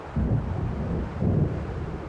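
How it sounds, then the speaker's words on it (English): In the video game Alan Wake Remastered, an approaching thunderstorm gives two low, muffled rumbles of distant thunder over a steady windy background, with no voices. "It seems there's a storm coming."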